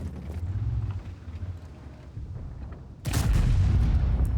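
A heavy tank cannon booms loudly partway through a World of Tanks match with an E100, following a stretch of low engine rumble and quieter distant fire, with no talking.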